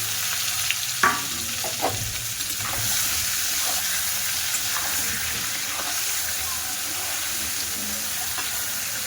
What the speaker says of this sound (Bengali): তো মশলাটা লাল লাল হয়ে গেছে, এবার আমি আমগুলো দিয়ে দেবো।